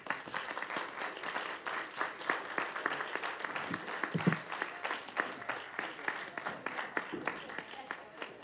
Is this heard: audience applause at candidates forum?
yes